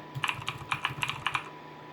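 Light keyboard typing, a handful of quick clicky keystrokes in an uneven rhythm, close and fairly quiet.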